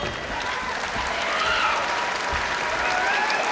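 A boxing crowd at a Dillian Whyte heavyweight bout applauds and cheers steadily throughout, a dense continuous roar of clapping and voices filling the arena at full volume.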